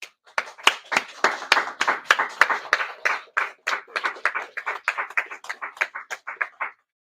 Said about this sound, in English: So I would like to applaud them.